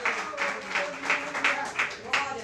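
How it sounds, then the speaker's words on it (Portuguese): A church congregation clapping together in steady rhythm, evenly spaced claps roughly three per second, moderately loud with a roomy, reverberant wash. "Dê uma salva de palmas a esse Deus."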